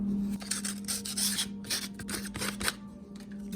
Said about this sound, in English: I'm just going to run a little sandpaper across that.